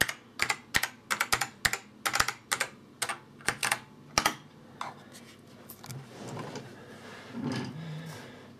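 A password typed on a computer keyboard of a second-hand Dell Dimension 8300, a quick run of crisp close keystrokes, then softer shuffling sounds.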